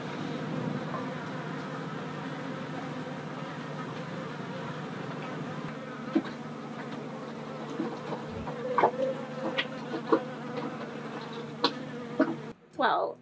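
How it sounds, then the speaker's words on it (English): A bee swarm buzzes steadily aboard a sailboat anchored in Costa Rica, a dense continuous drone with a few sharper nearby passes and clicks, ending with a brief louder knock. "It's just bees."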